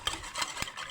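A whisk briefly scrapes and swishes through egg yolks in a bowl, a short soft stirring rasp with a few quick strokes and no talk.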